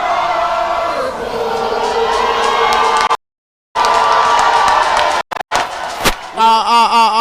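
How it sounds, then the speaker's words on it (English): Supporters of a county team at a national county sports meet finals ceremony cheer loudly as a group, a sustained wash of crowd noise broken by brief dropouts, followed by a few rhythmic chanted calls near the end. "that is a perfect cheering squad from the supporters of Grand Crew County"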